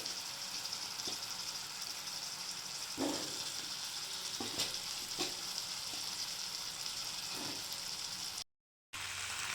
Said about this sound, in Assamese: আৰু লগতে মই আলুখিনিও দি দিম, অকণমান ফ্ৰাই হ'বৰ বাবে এই চিকেনৰ লগত একেলগে।